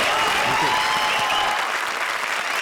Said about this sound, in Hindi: जोरदार तालियां VIP और फ्रेंड्स के लिए